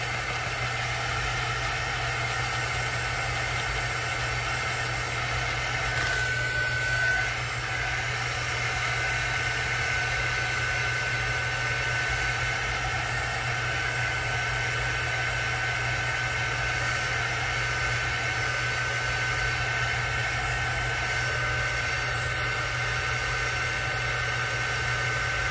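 A hair dryer runs steadily and loudly near at hand, blowing on wet, goopy craft paint on a rock-stone skull figure, a continuous even whir with a constant hum beneath it and no talking throughout.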